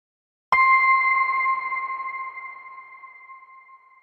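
Artistry Audio Scorpio "City of Atlantis" ringer patch: a single bright, bell-like tone with a sustained high overtone strikes once and rings out alone, slowly decaying over several seconds.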